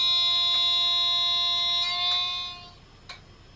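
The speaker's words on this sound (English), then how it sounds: "We've got a AWS horn." AWS horn from a Bachmann Class 350 model train's sound system, a loud steady electronic warning tone held for over two seconds before cutting off, followed by a short faint click.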